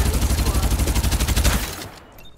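Rapid automatic gunfire rattles loud and close in the battle royale video game Farlight 84, as a sustained burst that cuts off and leaves a quiet tail.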